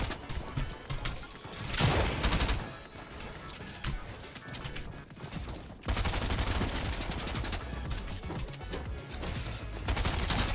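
Heavy shotgun blasts from Fortnite, a few loud booms around the two- and six-second marks over a busy, dense game soundscape, with some talk mixed in.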